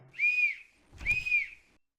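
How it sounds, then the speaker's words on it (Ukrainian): A whistle item in the Baldi's Basics Plus video game gives two clear, shrill, sustained tones, loud and close, with a short gap between them. "а що свисток робить?"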